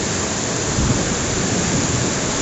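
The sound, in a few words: heavy rain in a storm with strong wind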